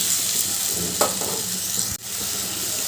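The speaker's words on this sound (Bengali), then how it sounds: "মশলাটা তো ভালো করে কষানো হয়ে গেছে তেল ছাড়তেও শুরু করেছে এবার আমি ওই মশলার বাটিটা ধুয়ে একটু জল দিয়ে দিলাম" Water from a rinsed masala bowl is poured into a pan of well-fried masala for a potato curry with eggless vegetarian omelette pieces, setting off a steady loud sizzle with a brief splash and a sharp hiss surge near the end.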